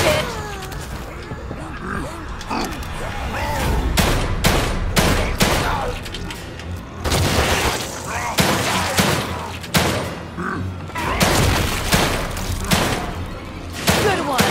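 Rapid bursts of gunfire from the survival horror video game The Evil Within 2, loud and repeated with heavy thuds and booms across the clip, mixed with in-game speech and background sound.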